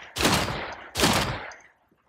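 Pulse cannon fire in the Mech Arena video game: two loud, close bursts about a second apart, each a broad blast with a short decaying tail, ending in near silence.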